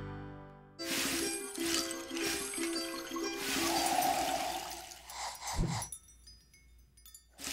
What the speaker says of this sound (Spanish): A mis espaldas está el río Uruguay.